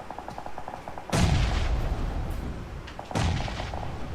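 Two heavy grenade blasts a couple of seconds apart in a competitive esports shooter match, each a loud booming thud with a rumbling tail, over a bed of lighter rapid gunfire.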